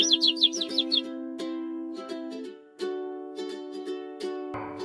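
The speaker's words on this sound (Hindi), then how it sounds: "चारों ओर हरे भरे पेड़, पक्षियों की चहचहाहट" Birds chirp in a green forest in a Hindi cartoon: a quick run of high, bright tweets at the start, then sparser calls over a steady, sustained tonal background.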